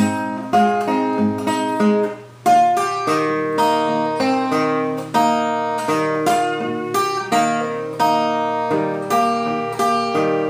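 A fingerstyle blues guitar plays a tune, with an alternating bass under plucked treble notes, each note ringing and decaying in a steady, clear rhythm with no voice.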